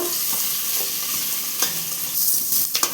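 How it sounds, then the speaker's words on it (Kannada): Cumin and onion frying in a pan for a village-style greens saaru, a constant close sizzle broken by scraping stir strokes, busier toward the end. "ಸ್ವಲ್ಪ ಜೀರಿಗೆ ಈರುಳ್ಳಿ ಹಾಕೊತ ಇದ್ದೀನಿ"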